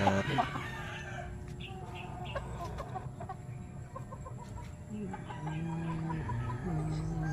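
Backyard chickens, five-month-old birds in Bacolod, cluck steadily at close range while roosters crow repeatedly, the calls overlapping in a busy, continuous farmyard chorus.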